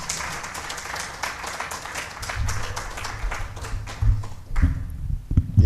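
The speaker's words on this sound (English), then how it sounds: "Yeah, you can applaud." A crowd applauds with steady, dense clapping that swells slightly toward the end, with a few louder close claps standing out.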